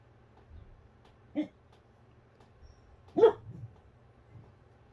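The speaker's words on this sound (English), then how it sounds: "Sorry about the dogs." Two short, separate dog barks sound indoors a couple of seconds apart, the second louder and followed by a faint whimper, over a low steady hum.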